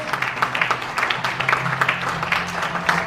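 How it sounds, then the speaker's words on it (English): People applaud the baton bearers on stage at a Commonwealth Games Queen's Baton Relay event, fairly soft, steady clapping from a modest crowd heard at some distance. "Let's give them a big round of applause."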